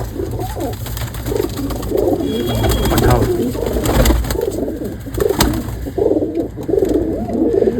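Desi pigeons coo over and over at close range in a loft, layered soft throaty calls overlapping through the whole stretch with a steady low background hum.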